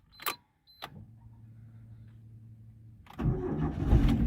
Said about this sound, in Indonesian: sekarang kita hidupkan mesinnya.